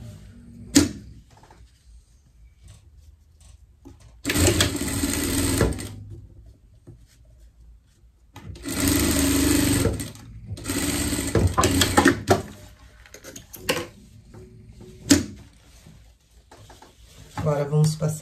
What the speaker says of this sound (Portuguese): Agora, vamos passar uma costura aqui nas cavas.